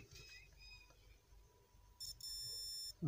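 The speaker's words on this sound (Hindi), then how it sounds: "आप कहीं से भी रख कर इस पर जब टच करेंगे तो ये बीप करेगा" A multimeter on continuity test gives a sharp, steady electronic beep of about one second while its probes touch a Jio F120/F220 phone circuit board, after a quiet stretch with faint higher tones.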